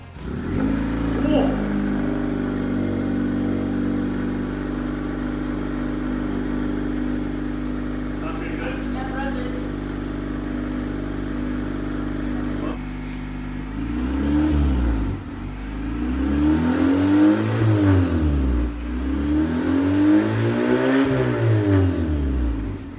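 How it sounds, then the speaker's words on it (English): A Prelude car engine with a catback exhaust idles with a deep exhaust drone, then revs up and down in several rising and falling swells, loud and close. "That was a short, quick preview of how our exhaust system sounds."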